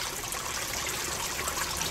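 Water trickles and splashes steadily from a hole drilled in a small aquaponics pipe into a grow bed, a continuous close hiss with no voices.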